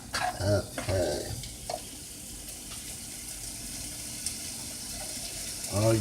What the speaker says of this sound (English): you hear that good sizzle?